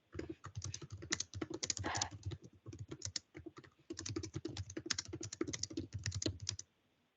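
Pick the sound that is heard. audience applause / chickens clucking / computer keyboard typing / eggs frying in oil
computer keyboard typing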